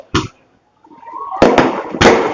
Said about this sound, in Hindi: ये जो पटाखेबाजी हो रही है ये हम नहीं कर रहे।